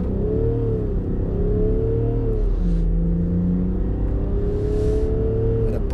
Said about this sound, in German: Schieben wir uns mal in die Startposition und Vollgas.